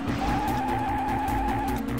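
In the DOS racing game Whiplash (Fatal Racing), a car skids around the track with a sustained tire squeal over a droning engine, loud, close and continuous, with a slightly pulsing rhythm.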